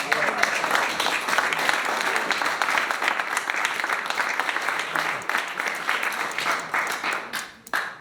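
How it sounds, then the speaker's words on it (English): Crowd applause at an outdoor community circle gathering, brisk overlapping claps that hold steady for several seconds and then thin out and fade toward the end, with scattered sharper claps at the tail. "I just want to clap one more time."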